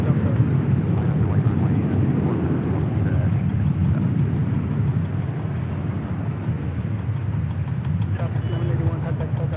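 A WestJet Boeing 737 MAX 8 arriving at LAX, a steady loud jet engine roar and rumble holding for several seconds, with a voice talking faintly near the end.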